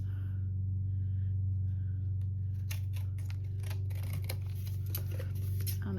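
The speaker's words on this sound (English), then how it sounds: "I think I'm just going to trim it down just ever so slightly." Scissors trim paper for a journal page in a series of quick, crisp snips over a steady low hum, close and fairly quiet.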